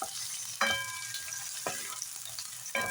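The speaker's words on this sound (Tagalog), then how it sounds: "Ginisa muna natin yung bawang at saka sibuyas" Garlic and onion sauté in hot oil for Ilocano-style crab cooking, a continuous crackling sizzle punctuated by three sharp clanks of a spatula against the pan.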